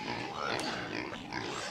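Kunekune pigs in their pen give low, continuous grunts and snuffling noises, close and steady throughout, with no one talking over them.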